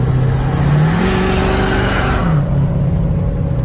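A Ford 6.0 Powerstroke diesel truck fitted with a hood stack revs hard, a loud, deep, throaty roar that swells and eases in a steady, continuous drone heard up close with no talking.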